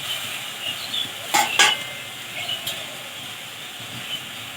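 A spatula stirs boiled pumpkin leaves in a pan while the water cooks off, with faint scraping and a couple of sharp metallic clinks over a soft steady hiss.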